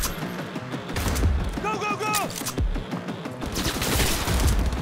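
Rapid bursts of automatic gunfire rattle through a Cyberpunk 2077 firefight, dense and continuous across the clip, with game sound effects and a brief voice-like tone mixed in.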